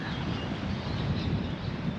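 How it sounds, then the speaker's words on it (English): Steady wind buffets the microphone, producing a continuous low rumble with a faint airy hiss, no voices. "Yeah, it's still a little windy, a little cold."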